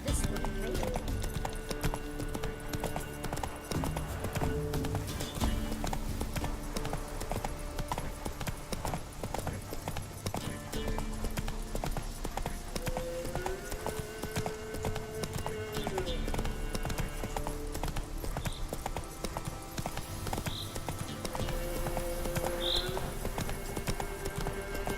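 Roach the horse galloping in The Witcher 3, a steady drumming of hooves that runs the whole time beneath game music, with a voice talking over it.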